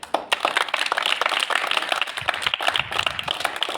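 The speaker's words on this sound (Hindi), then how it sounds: "तो सर के लिए जी तालियां बजाएं" A school gathering in Sindh claps for a teacher receiving an award, a close, loud burst of crisp, uneven hand claps from a group that keeps going steadily.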